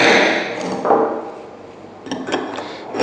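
Parts of a stainless steel solenoid valve with an EPDM diaphragm clink and knock as it is taken apart, with a few sharp metallic taps and scrapes separated by short pauses, close by.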